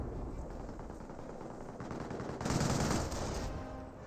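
Gunfire crackles in a World War II strategy battle in Company of Heroes, a faint, busy mix of scattered shots with a louder burst of fire and a heavy impact midway through.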